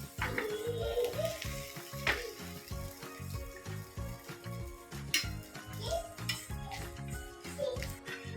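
Malpua frying in oil over a low-medium gas flame, a steady sizzle running under close, rhythmic clinks and scrapes of a utensil against the pan.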